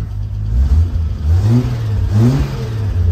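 A supercharged first-generation Toyota Hilux RN30 4x4 engine revs up close, rising and falling in two or three throaty blips over a rough, uneven idle while it is still warming up.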